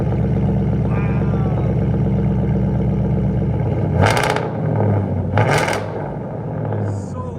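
Ford Mustang GT 5.0 V8 with straight-pipe exhaust, heard from inside the cabin: a loud steady rumbling drone with two sharp bursts of noise partway through, and talk in the car.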